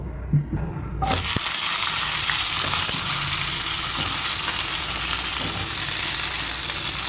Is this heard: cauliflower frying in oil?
yes